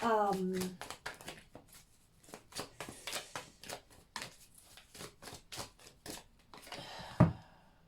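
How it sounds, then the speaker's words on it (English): Tarot cards being shuffled by hand in a run of quick, crisp riffling bursts, close and fairly loud, with a person talking between and over the shuffles. "You guys are seeing me shuffle on camera."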